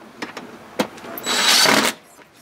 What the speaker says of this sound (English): So we're going to screw with these existing screws